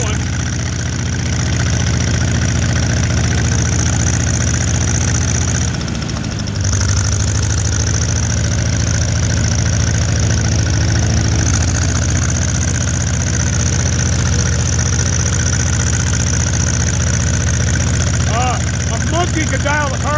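An old Allis-Chalmers tractor engine idles steadily with a low, even rumble, close and loud, continuing without a break while people talk nearby.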